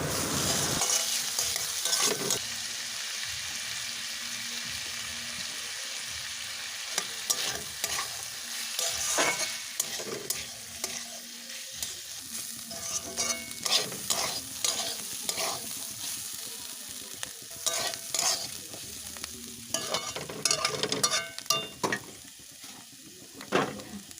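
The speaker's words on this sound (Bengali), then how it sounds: "বাঁধাকপিটা আর আলুটা ভাজা হয়ে গেছে" Cabbage and potatoes seasoned with salt and turmeric fry in oil at home, with a steady sizzle broken by repeated scraping and clattering stirs of a spatula against the pan, close and unaccompanied by speech.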